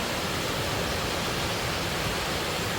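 A waterfall rushes in a steady, dense hiss of falling water, constant and fairly close, with no voices over it.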